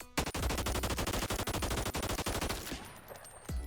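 Rapid, loud gunfire from a pistol in the VR game Bonelab, a dense run of sharp, evenly spaced shots fired in quick succession. It stops abruptly, and a couple of fainter clicks follow.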